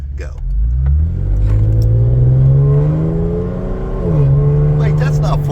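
A 2015 Chevrolet Camaro V6 with a custom Black Widow exhaust accelerates hard, its loud, close engine note climbing steadily in pitch, dipping briefly as it shifts, then rising again.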